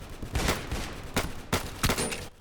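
Pistol fire in the Roblox game Scorched Earth: five or six sharp, loud shots spaced irregularly over a couple of seconds, with no talking in between.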